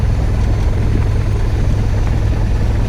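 A Piper Archer light aircraft idles at the runway before takeoff, its propeller engine a loud, steady, close drone with a low throbbing hum that never lets up.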